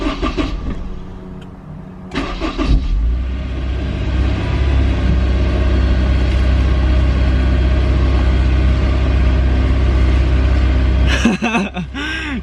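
A Honda S2000 cranks with a brief starter whir, catches, and settles into a loud, steady idle that rumbles close up and continuously, with a short whine near the end and no speech.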